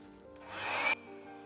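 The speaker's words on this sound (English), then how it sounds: "I'm using my flower hair dryer" Small flower-shaped hair dryer running on its low setting, a soft airy whoosh that rises over about a second and then cuts off abruptly, fairly faint and alone.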